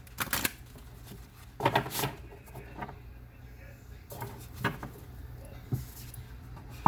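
Oracle cards being shuffled in a few quick riffling bursts, close by, with quiet pauses between them.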